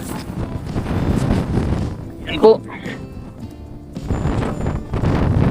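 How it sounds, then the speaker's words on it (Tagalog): Strong wind buffets the microphone in heavy gusts, easing briefly midway before roaring back, with a person speaking under it. "Grabe, sobrang lakas talaga ng hangin."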